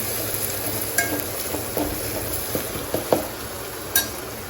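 Crushed garlic and spices fry in hot oil with a steady, close sizzle, broken by a few sharp clinks and scrapes of a utensil stirring the pan.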